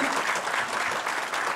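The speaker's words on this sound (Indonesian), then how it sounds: "yuk tepuk tangan yang kuat lagi bagi Yesus Tuhan kita" Congregation at a 2010 Christian church sermon clapping loudly and continuously, a dense, steady wash of applause filling the room with no voices over it.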